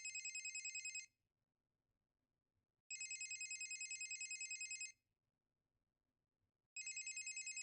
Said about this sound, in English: Oh, very exciting ringtone.